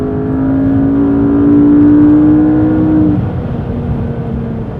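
Cabin view of a 2013 McLaren MP4-12C in sport or track mode: a loud engine drone rises and holds steady, then eases off as the revs drop, with no voices.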